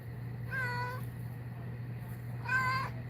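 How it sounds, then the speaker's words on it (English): A house cat meows twice, each call short and clear with about two seconds of quiet between them, close by over a faint steady hum and with no talking. "And there's my Moo kitty coming."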